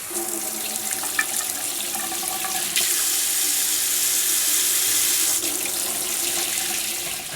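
A newly installed galley sink faucet on a boat runs water into the basin, a steady close rushing hiss that surges louder partway through after a few clunks of handling.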